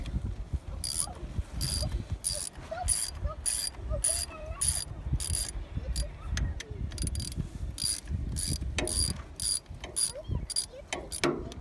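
A ratchet with a 9/16 socket clicks rapidly in repeated bursts while loosening a bolt on the starter of a John Deere 2010 tractor, close up and fairly quiet, with faint handling noises between strokes.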